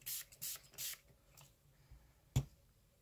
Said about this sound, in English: Spritz your background.